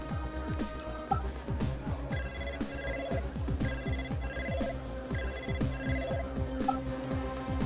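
A telephone rings repeatedly in the Blade Runner video game, an electronic ringtone pulsing in a fast regular pattern over a low background hum, with no talking.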